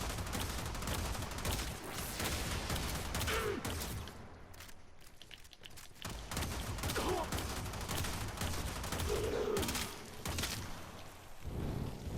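The Kuva Seer pistol fires in Warframe, dense rapid bursts of in-game gunfire with booming impacts, briefly pausing midway before the shots resume, under occasional game sounds.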